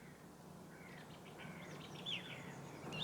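Birds in a changing forest, a few faint high chirps and short trills scattered over quiet background hiss.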